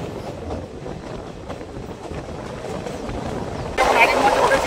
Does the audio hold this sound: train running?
yes